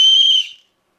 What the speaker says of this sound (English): It's a pretty loud whistle actually.